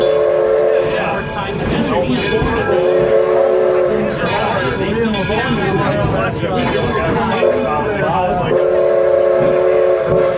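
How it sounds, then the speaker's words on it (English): A steam locomotive whistle from the Edison train at Greenfield Village in Dearborn, Michigan, holds long sustained steady tones across the clip amid rumbling train noise and people talking nearby. "We're on the Edison 1 train. It's a steam locomotive."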